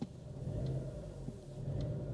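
A Chevrolet Aveo with about 28,000 miles idles roughly with a cylinder misfiring, giving a low, uneven, lumpy engine rumble heard close and fairly quiet, with no talking.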